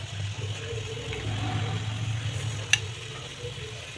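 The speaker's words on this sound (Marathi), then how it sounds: "घालून वांगे छान असे फ्राय करून घ्यायचे।" Quartered brinjal pieces fry in oil in a kadhai, producing a low, steady sizzle with a soft background hum and one sharp tap partway through.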